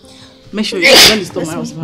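A single sharp sneeze bursts out during a quiet nighttime bedroom scene in a Nigerian film, with someone speaking just before and after it.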